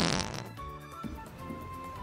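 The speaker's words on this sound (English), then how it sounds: "I put whoopee cushions inside of the piano. So now we press a key. And make a fart noise." A whoopee cushion hidden inside a piano lets out one short, loud fart noise when a key is pressed, followed by a quieter tonal tail.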